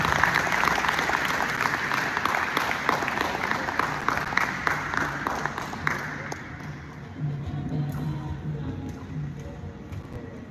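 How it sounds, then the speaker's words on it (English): Audience applause at a live Ghanaian event as a guest is invited up, dense clapping that fills the first several seconds and then thins out, with talk continuing underneath. "Let's give him a hand of applause."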